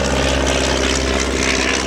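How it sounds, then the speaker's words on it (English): A de Havilland Tiger Moth propeller plane taking off at a WWII airshow in Virginia Beach, its engine a steady, loud, rough drone with propeller buzz filling the whole moment, no voices. "You'll see another one taking off right now, the de Havilland Tiger, identical."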